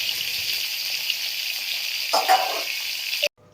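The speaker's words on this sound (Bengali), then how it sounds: "তো দেখো আলুগুলো ভাজা হয়ে গেছে লাল লাল করে, এখন আমি আলুগুলো তুলে নেব।" Potatoes frying in hot oil for a spicy potol chingri dish make an even, close hiss with a few brief pops, cutting off abruptly near the end.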